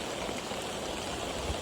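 Rain falls outdoors during a storm as a faint, steady hiss and patter, continuous and even over a short stretch with no voices.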